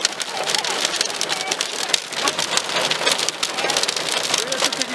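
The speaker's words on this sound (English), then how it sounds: "Oh my god! What a hailstorm!" Hailstorm pelting a car on Omagh Road in Northern Ireland, a loud, dense, constant drumming of hailstones on the roof and windows close around, with no break in the barrage.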